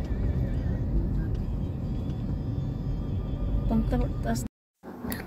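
A car drives along a road heading out toward the highway, its engine and tyres giving a steady low rumble, with a brief dropout and some clatter near the end.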